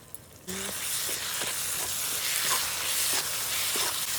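Ground spice paste with chilli and salt fries in a pan, where a loud, steady sizzle starts suddenly and carries on with a few soft stirring scrapes.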